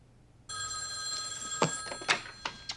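An old-fashioned telephone bell rings in a 1989 film scene, a steady sustained metallic ring starting abruptly and continuing with a few sharper accented strikes near the end, heard alone at moderate level.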